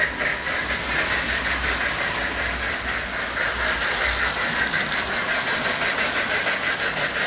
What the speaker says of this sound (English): Now you can hear the chugging sound